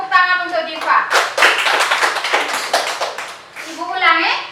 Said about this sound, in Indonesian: kita tepuk tangan untuk Diva.